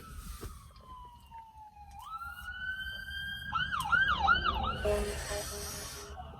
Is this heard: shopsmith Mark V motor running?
no